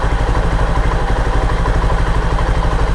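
A motorcycle engine idles steadily and evenly after its mileage screw is opened four turns, a close, continuous low throb with regular combustion pulses running alone throughout.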